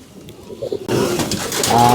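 Pigeons coo softly at first, then a louder, closer cooing and fluttering noise takes over and continues.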